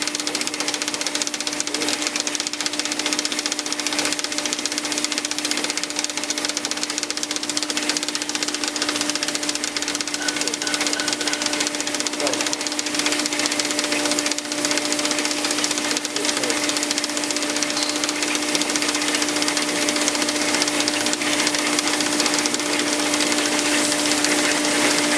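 A planter row unit runs steadily on a test stand, giving a continuous, even mechanical hum with a faint rhythmic knocking and whir, close and unbroken throughout, with no talk.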